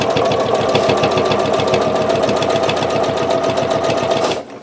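A sewing machine stitches quilt fabric in one loud, close, continuous run, its needle chattering in a fast even rhythm before it stops abruptly at the end, with no talking.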